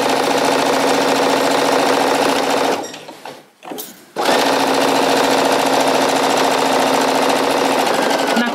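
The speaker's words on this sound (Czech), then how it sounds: "Na kraji toho polštáře přes ten zip opatrně zapošijeme, aby se nám to nevytrhlo" Sewing machine running steadily while stitching a pillow seam over a zipper, loud and close, a continuous buzzing drone that stops for about a second midway before resuming at full speed.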